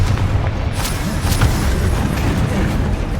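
A loud, rumbling blast from the Confringo spell in the game Hogwarts Legacy, a dense low boom that rolls on for several seconds, with sharp crackling hits at the start.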